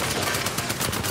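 Enemy gunfire in Apex Legends rattles in a fast, loud automatic burst of evenly spaced shots, close and continuous, with no voices.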